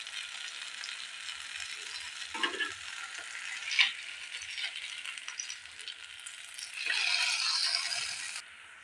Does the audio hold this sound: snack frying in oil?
yes